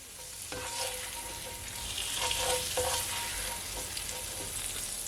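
Garlic butter shrimp frying in a pan give off a steady crackling sizzle, with occasional utensil stirring clicks over the hiss throughout.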